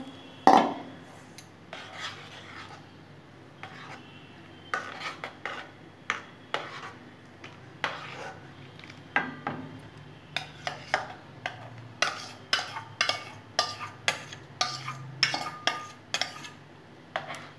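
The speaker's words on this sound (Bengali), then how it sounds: "ভালো করে আমি নেড়ে নেব" A spoon stirring mango payesh, cooked rice pudding with mango pulp, in a pot, close scraping and clinking strokes in irregular bursts, louder and faster toward the end, with no talking.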